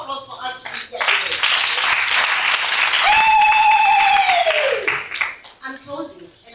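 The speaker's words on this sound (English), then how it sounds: "Can we have a round of applause for us to be here today?" An audience at a women's coffee event in Randburg, South Africa breaks into sustained, loud applause, with a voice whooping in a rising then falling tone above the dense clapping before it fades.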